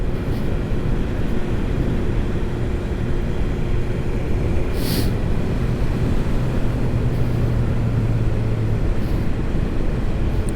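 A 1000cc, 170 hp roadster motorcycle engine under acceleration while riding, a steady loud low-pitched roar mixed with heavy wind rush, continuous and close throughout.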